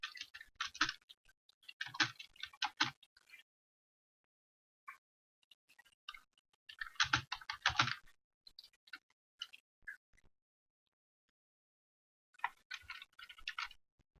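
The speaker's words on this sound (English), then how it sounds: "stupid keyboard." A computer keyboard is typed on in quiet bursts of light, rapid clicks separated by pauses, close and fairly faint, with no talking.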